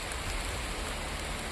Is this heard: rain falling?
yes